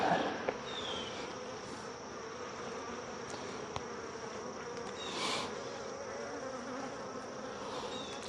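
Honeybees hum around an open hive during a mid-August hive check, a continuous even drone at close range with occasional individual bees buzzing nearer, no voices.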